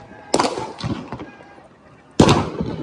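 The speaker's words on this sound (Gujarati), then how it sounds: "બીજું લઈ આવો ફટાકડાને મને જ નથી લેવા દેતા" Diwali firecrackers go off in two sharp, loud bursts, one early and one near the end, with fainter crackling and pops in between and some talking nearby.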